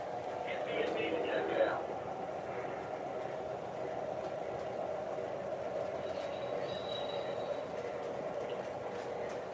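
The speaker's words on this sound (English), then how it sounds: "we'll get a shot of this train going up over the bridge" A train rolls steadily over a bridge, a constant low rumble of cars and rails holding at the same level throughout, with a brief louder clatter near the start and a faint squeal later.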